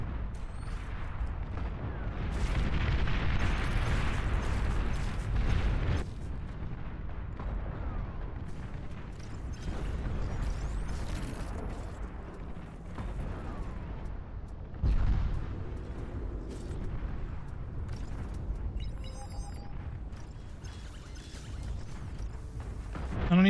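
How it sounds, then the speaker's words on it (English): Long-range plasma cannons in the strategy game Supreme Commander fire a sustained run of heavy, rumbling booms and blasts, loud and dense with overlapping impacts throughout, no voices. "Long-range plasma cannons are targeting your units."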